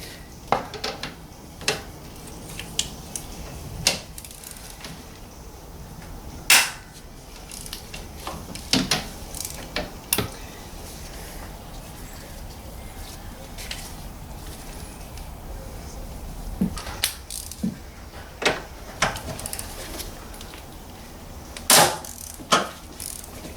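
Ratchet and socket clicks as bolts on a 2006 Nissan Serena engine mount are cracked loose with a 16mm socket, intermittent sharp metallic clacks and short ratcheting bursts scattered over a quiet background, close by.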